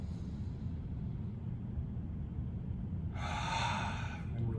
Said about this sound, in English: Inhale through the nose, exhale through the mouth, and then just pick up the pace